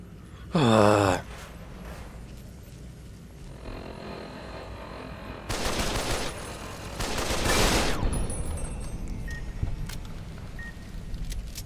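Gunfire in Fallout: New Vegas Dead Money, two loud bursts of rapid shots in the middle and later part, over a steady game background with a sharp effect at the start.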